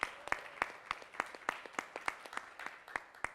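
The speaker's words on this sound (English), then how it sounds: "let's give the organizers of Beyond a round of applause." Audience clapping for event organizers at the start of a Southeast Asian venture capital conference session: a thin, scattered round of individual claps, fairly close and uneven, with no talking over it.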